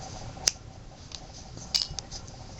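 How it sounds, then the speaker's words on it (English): Scissors snip through ruffle yarn in two or three sharp, close clicks spread over a few seconds, with quiet handling noise between cuts. "Let me cut the ruffle yarn."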